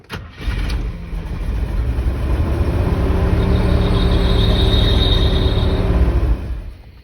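A Jeep Grand Wagoneer's engine is started after a fuel pump change: a short cranking catch, then the engine fires and settles into a loud, close, steady rumbling idle for several seconds before cutting off, with no talking.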